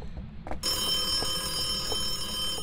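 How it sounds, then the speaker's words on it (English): A telephone rings in the living room of a haunted house in the ghost-hunting game Phasmophobia, a steady electronic ringing starting about half a second in and continuing alone at moderate level. "That might have been the phone there in the living room."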